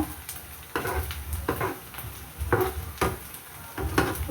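Chicken fried rice ingredients sauté in a pan with a soft sizzle, punctuated by repeated spatula scrapes and stirring knocks roughly every half second, fairly quiet and without talk.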